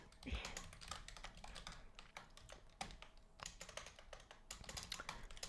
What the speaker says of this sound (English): type something here